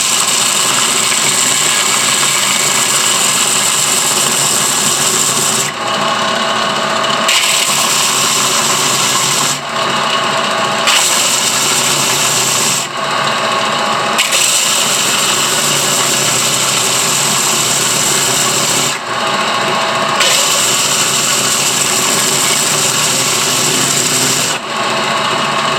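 A power sander whines steadily and loudly for the whole stretch, briefly cutting out several times before starting up again, sanding a fossil shark from Lebanon.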